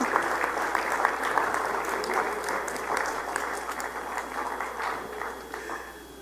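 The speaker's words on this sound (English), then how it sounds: "Ladies and gentlemen, get up and give yourselves a round of applause for being so close to my heart." An audience at a Los Angeles congress gathering applauds continuously, a dense, even wash of many hands clapping that holds steady and eases slightly toward the end.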